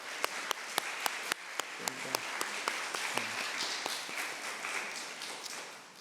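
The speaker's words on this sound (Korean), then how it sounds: "그냥 앉은 자리에 손만 한번 흔들어 주시면 같이 박수하도록 하겠습니다." A church congregation claps to welcome visiting family members during a service, opening with a run of sharp, evenly spaced claps that blend into a steady, moderate wash of applause.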